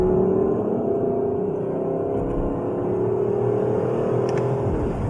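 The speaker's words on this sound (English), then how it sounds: "And these pops. Jeez. Oh, they're like little rifle shots." Exhaust and engine of a 2021 Lexus LC 500 Convertible running in manual mode through its 10-speed gearbox, a steady loud drone with shifts and sharp pops.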